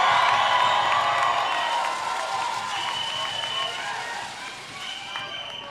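A graduation crowd at Africa University greets the class of 2023 with loud applause mixed with cheers and whistles, a broad roar that starts strong and slowly eases over several seconds.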